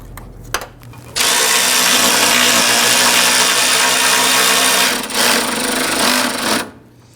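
A power tool snugs down fender bolts on a 1997–2006 Jeep Wrangler, whirring loudly and continuously up close for about five seconds with a brief dip midway, after a few faint clicks at the start.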